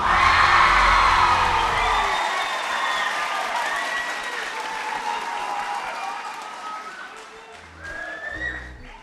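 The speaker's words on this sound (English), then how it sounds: "a big round of applause for this guy" Applause and cheering from an audience at a singing competition's top-five showcase, loud at first with whoops and shouts riding over dense clapping, then tapering off steadily and swelling briefly again near the end.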